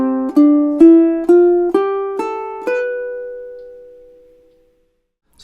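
A ukulele plays a short chord phrase of about seven plucked strums in a steady rhythm, each ringing brightly, the final chord sustaining and fading slowly to silence.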